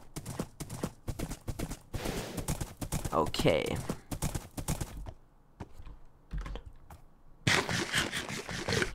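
Horse hooves clop in Minecraft in an irregular, fairly close patter, with a voice talking over the footfalls.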